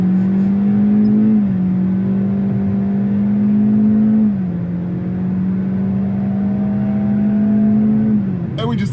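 A 2025 Kia K4 engine pulls hard at full throttle, a loud steady drone that climbs in pitch, drops at a gear change around midway, then climbs again before easing off at the end; a voice speaks over it.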